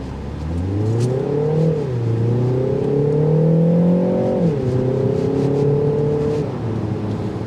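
A 2025 Mini Countryman S ALL4 accelerates hard from a standstill, its engine note climbing steadily through the gears with brief dips at the shifts, loud and close inside the cabin, with no talking.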